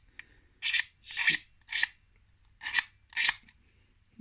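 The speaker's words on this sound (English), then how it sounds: "the quickest and easiest way to clean off the brim is just to scrape along with a knife" Knife blade scraping the brim off a 3D printed part: five distinct rasping strokes, each about a quarter second long, spaced irregularly and close to the mic, with quiet gaps between and no talk.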